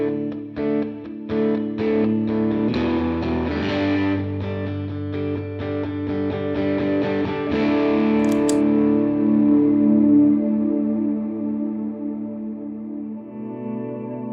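An electric guitar plays through a JET Revelation Reverb pedal set to its modulated reverb algorithm. Picked chords and notes bloom into a wide, wavering wash that sustains and slowly fades, with no talking.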